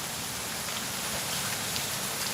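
Steady rain falls close by beneath a bridge at a fishing spot, a dense, even hiss of drops on surfaces that continues without a break and no one speaking.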